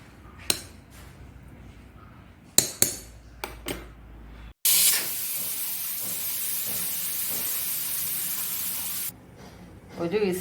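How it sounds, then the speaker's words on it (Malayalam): A pressure cooker holding jackfruit lets off its whistle as one loud, sustained hiss of escaping steam lasting several seconds. Earlier in the clip a few sharp kitchen clatters sound, and no one talks. "ഒരു വിസിൽ വന്നു."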